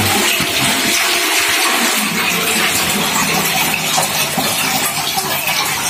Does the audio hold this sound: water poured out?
yes